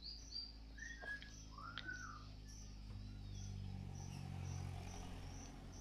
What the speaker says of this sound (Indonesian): Anakan jalak kebo.